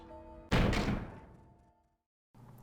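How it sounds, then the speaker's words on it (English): A sudden explosion sounds outside in the video game Hakuoki: Kyoto Winds. Over soft background music, one loud booming hit decays over about a second, then drops to near silence before the music returns. "there was an explosion of noise from outside"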